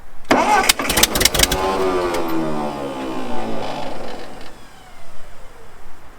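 A 1946 Ford 2N tractor engine cranks and catches, giving a burst of sharp starter turns and pops, then a sputtering mid-pitched run that fades and surges again.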